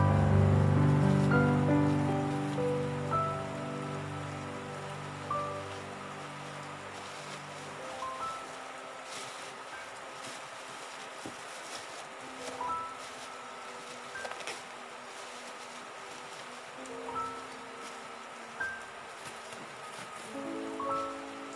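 Rain falling outside a rented house, a soft continuous hiss with scattered drips and taps, preceded at the start by a loud tonal horn-like sound that fades after several seconds.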